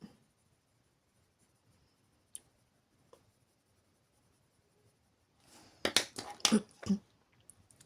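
Colored pencil scratching on paper in quick bursts of short strokes, close and fairly quiet, after a mostly silent stretch with a couple of isolated clicks.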